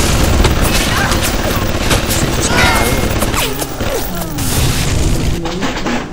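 Enemy gunfire in the Bioshock video game, a dense barrage of booming shots and rapid bursts rattling close and loud throughout, layered over other in-game noise and a voice talking.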